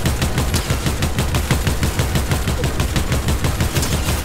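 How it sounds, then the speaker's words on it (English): Rapid automatic gunfire rattles in a Fortnite match as the player's character is hit, a dense steady burst of loud shots repeating at an even fast rhythm for several seconds, with no talking. "I'm getting shot right now"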